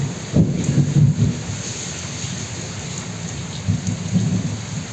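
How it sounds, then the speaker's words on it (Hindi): Heavy rain pours steadily while low thunder rumbles nearby, swelling twice into louder rolls. "और ये गरजने की आवाज़ आ रही है और बारिश और तेज।"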